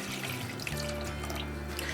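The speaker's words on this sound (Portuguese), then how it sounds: "E eu vou completar com um pouco de água" Water pours into a pressure cooker holding calabresa and Portuguese sausages and bacon for feijoada, a steady close splashing stream running continuously for two seconds with no talk.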